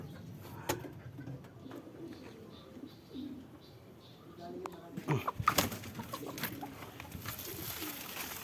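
Racing pigeons released on a training toss in Aliaga, Nueva Ecija: soft cooing and brief wing flutters rise mid-clip, fairly distant over a low outdoor ambience.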